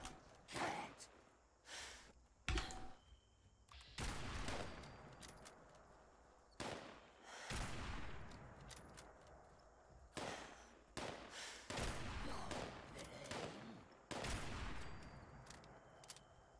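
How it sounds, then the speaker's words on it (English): Heavy .50 caliber rifle fire in Fallout 76: a dozen or so sharp, booming shots, spaced irregularly, some in quick pairs, each cracking loudly and then trailing off into a brief rumble. "That was my 50 cal rifle in case, you know, 308s weren't big enough."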